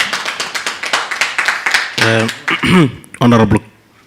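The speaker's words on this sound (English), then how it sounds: "Can we have a round of applause for Komani Kambas?" A student council audience claps in a steady patter for about two seconds after a submission, then a voice speaks as the clapping fades out.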